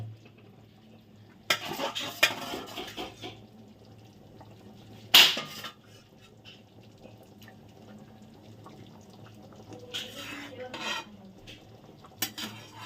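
Paneer cubes go into a thickening chilli paneer gravy in a pan. A metal spoon clinks and scrapes against the cookware in short bursts with quiet gaps, close up and with no talking.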